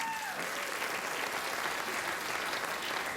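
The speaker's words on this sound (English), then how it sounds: "And with that spontaneous round of applause" A room full of people applauds, a dense steady burst of clapping that carries on evenly throughout.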